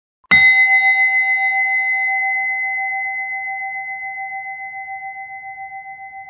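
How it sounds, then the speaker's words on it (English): A single bright bell strike rings out, then a long, pure sustained tone slowly fades with a gentle wavering pulse, alone in silence. "Here is my literal sound,"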